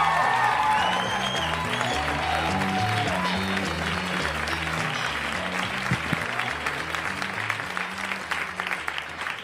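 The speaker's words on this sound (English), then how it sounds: "Let's give him a big rousing round of applause for Orlando Baxter, ladies and gentlemen." A comedy club audience gives a stand-up comedian a loud round of applause, with dense clapping and some cheering that swells at the start and then gradually thins out.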